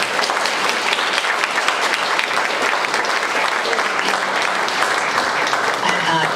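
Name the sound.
audience applause for an honorary doctorate announcement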